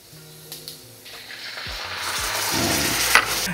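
Soy sauce poured over tofu in a hot pan sets off a loud, rising sizzle that swells and holds steady, with a few light clinks of a utensil before it.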